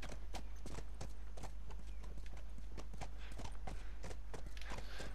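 Hooves clip-clop in a quick, regular rhythm as a horse moves along in The Last of Us, each hoof strike crisp and close over a low steady rumble, with a whinny-like note among them.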